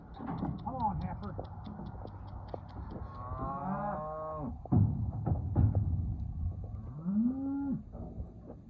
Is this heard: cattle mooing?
yes